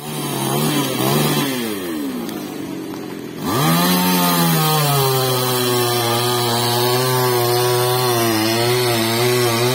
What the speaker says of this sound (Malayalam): പോലീസും ഫയർഫോഴ്സും നാട്ടുകാരും ചേർന്നാണ് മരം മുറിച്ചു മാറ്റിയത്